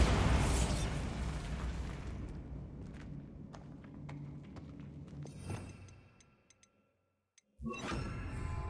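A Bombarda blasting spell going off in the Hogwarts Legacy video game, a loud booming burst with rumbling debris that decays over several seconds into scattered ticks and crackles, then a fresh burst of noise after a brief silence.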